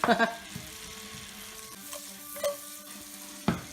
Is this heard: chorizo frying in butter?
yes